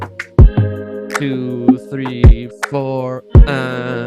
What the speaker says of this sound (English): Just an organ following the chords on the downbeat.